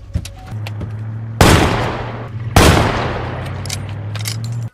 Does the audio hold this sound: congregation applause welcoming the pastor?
no